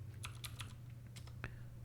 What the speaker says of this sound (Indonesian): Saya ketikkan di sini